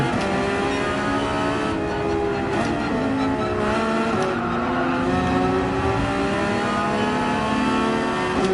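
A Dodge Viper race car at Yas Marina in Gran Turismo 7 holds a loud, steady engine roar throughout, its pitch rising and falling through gear changes, with faint tire squeal and no talking.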